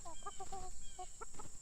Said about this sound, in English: I got chickens over here pecking